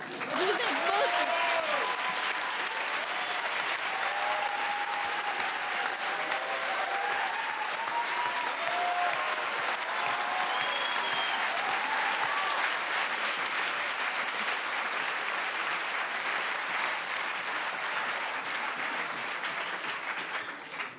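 A large audience at the final of an eloquence contest applauds steadily and warmly for about twenty seconds, a dense even clapping with faint voices mixed in.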